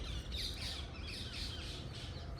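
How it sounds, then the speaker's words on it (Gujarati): A parrot in village countryside near Botad, Gujarat, gives a few rough squawks in quick succession, somewhat distant and faint against steady outdoor background noise. "આ બાજુ પોપટ બોલે."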